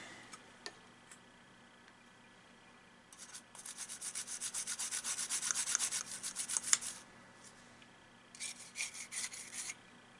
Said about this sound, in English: I'm going to give this a good scrub along the board